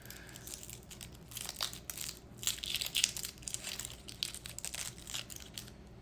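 Shallot skin peeled off by hand in a kitchen, giving close, dry crinkling and crackling bursts with small tearing snaps, irregular and quiet, with no voices.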